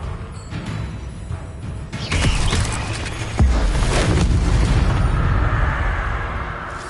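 Confringo blasting spell from Hogwarts Legacy detonating in a loud, booming burst, followed by a second heavier blast over a continuous rumbling game soundscape.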